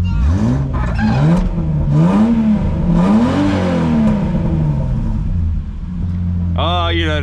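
Holden VS Commodore ute engine rumbling and revving in rising and falling swells at close range, a steady low drone between revs, with people talking briefly near the end.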